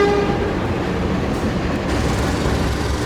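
Fajar Utama Yogyakarta train at Pasar Senen station in Jakarta, its steady loud rumble of rolling carriages filling the air without any voices.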